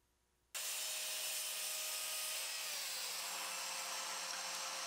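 Saw cutting a wooden bench bottom panel to size, a loud continuous rasping buzz that starts abruptly after a brief quiet moment and holds steady, close by, with no talking.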